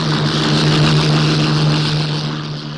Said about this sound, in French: les rares survivants de la Luftwaffe décollent pour une dernière mission à 1 contre 10